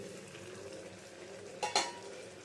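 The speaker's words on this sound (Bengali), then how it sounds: "ঢাকাটা সরিয়ে নিচ্ছি" A pressure cooker lid is lifted off a pot of boiling raw jackfruit, giving a short pair of metallic clinks over a quiet, steady background bubble.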